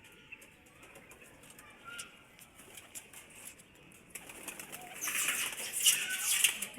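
Pigeons, some sick with pox, coo faintly and flap their wings, with wing flutters and rustling growing louder toward the end.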